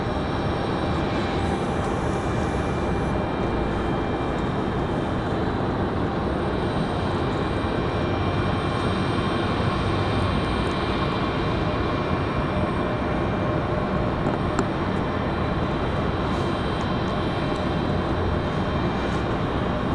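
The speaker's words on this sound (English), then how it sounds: "I believe that's a Cessna Citation" A Cessna Citation business jet at Raleigh-Durham International Airport gives a steady, broadband engine roar. It holds at an even level for the whole stretch, with no talk over it.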